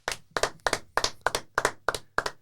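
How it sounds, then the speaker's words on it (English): Two podcast hosts clap by hand in a small studio, about eight close, sharp, regularly spaced claps, each ringing briefly, with no crowd. "Round of applause."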